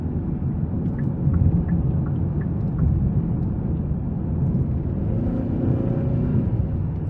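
A 2023 Hyundai Sonata N Line 2.5T with a dual-clutch gearbox accelerates, a steady low engine and road rumble heard from inside the cabin, with brief tonal shift blips near the start.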